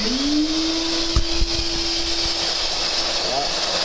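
A forge air blower switches on and spins up with a rising whine, then settles into a steady, loud rush of blowing air with a constant tone, alone and close up.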